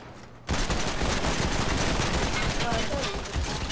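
Sustained gunfire in the game Fortnite aimed at the player, a dense loud barrage of rapid shots kicking in abruptly after a brief quiet moment and continuing without pause.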